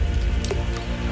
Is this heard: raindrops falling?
yes